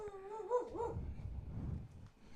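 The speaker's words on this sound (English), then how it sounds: "You can probably hear Coco doing her little Coco barks" A small dog gives a short, high whimpering yip that bends up and down in pitch, followed by lower rumbling grumbles, faint and indoors with no talk over it.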